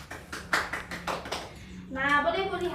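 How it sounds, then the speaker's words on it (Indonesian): Classroom of children applauding a student's story, a short burst of rapid overlapping claps followed by a voice speaking over the tail. "beri tepuk tangan dulu"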